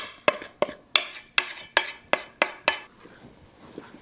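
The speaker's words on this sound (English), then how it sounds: "We're going to stir some flour in that and let it rest." Spoon knocking against a bowl while flour is stirred into oil and honey for bread dough, about eight sharp, evenly spaced clinks followed by softer scraping, close and with no talking.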